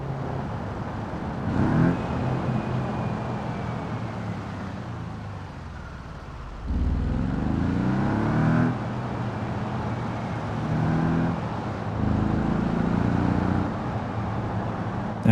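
Car engine in BeamNG driving game pulling away and building revs, a steady rising drone with a louder surge partway through, close and continuous.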